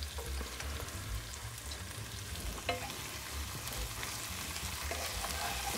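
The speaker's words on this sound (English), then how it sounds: "Give it another quick stir." Roasted vegetables sauteing in a pan, a steady close sizzle and frying hiss with occasional scrapes and taps of a stirring utensil, no talking.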